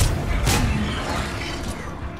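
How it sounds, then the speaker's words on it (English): A concussive shot power from the sci-fi shooter game Mass Effect 3 lands as a short, loud blast with a sharp initial burst that settles into a rumbling, noisy wash. "Oh, I love this concussive shot."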